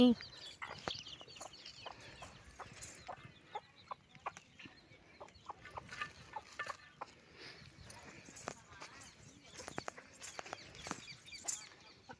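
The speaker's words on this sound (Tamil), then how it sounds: "சித்தி கொடுத்த கோழி வந்து ஒம்பது குஞ்சு பொறிச்சிருக்கு" Hen with nine newly hatched chicks on a farm, giving scattered soft clucks and faint peeping calls at close range, spread irregularly across a quiet outdoor background.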